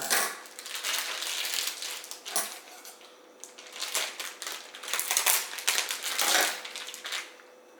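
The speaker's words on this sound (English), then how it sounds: "we're going to cut the bag off the pork shoulder." A plastic bag is cut and pulled off a pork shoulder, giving close, crinkly crunching and rustling in uneven bursts throughout.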